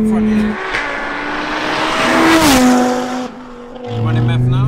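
A tuned 900 bhp Audi RS3 8P 2.5-litre turbo engine revs hard up close, its pitch climbing and dropping as it accelerates, with a throaty growl throughout.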